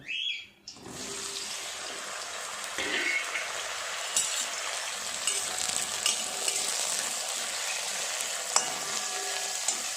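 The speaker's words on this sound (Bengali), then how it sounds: "তেল গরম হয়ে গেছে, বেগুনগুলো দিয়ে দেব" Eggplant pieces dropped into hot oil in a wok, a brief clatter and then a loud, steady sizzle that holds throughout, with occasional light stirring taps and no voices.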